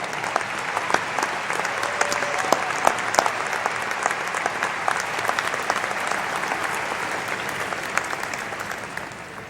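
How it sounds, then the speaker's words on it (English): A large audience claps at the 2007 Jefferson High School graduation ceremony for a language arts teacher and a gifted program coordinator, producing dense, even applause that sustains for roughly nine seconds. "please join me in a round of applause for language arts teacher Jerry Weber and gifted and talented coordinator and NHS advisor Sandy Morgan"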